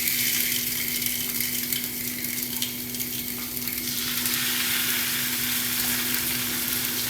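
Atlantic salmon fillet frying in a saute pan, a loud, close, continuous sizzle with a steady hum beneath it, settling slightly toward the end.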